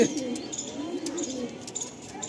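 Kalsira pigeons coo softly in a short, low, throaty burst, close by and fairly quiet, with faint background chatter.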